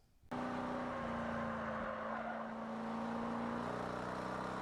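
A car lapping Barber Motorsports Park, its engine holding a steady sustained drone at full throttle after a sudden start, loud and continuous with a slight dip in pitch midway.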